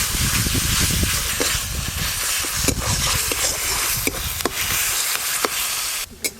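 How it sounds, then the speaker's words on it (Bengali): Onion paste sizzles and hisses loudly in a pan with ginger-garlic paste while being cooked down for katla kalia, a Bengali fish curry, with occasional stirring clicks over the continuous frying noise. "পেঁয়াজ বাটাটা একটু লাল লাল করে ভেজে নেব, তারপর আদা রসুন বাটা দিয়ে একসঙ্গে কষবো"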